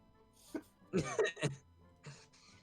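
A person clears their throat and gives a few short coughs, close to the microphone, with brief vocal bursts spread across a couple of seconds and no words spoken.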